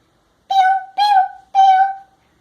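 A child imitates a little bird, giving three clear, drawn-out whistling chirps at a steady pace, close and loud, with no other sound around them.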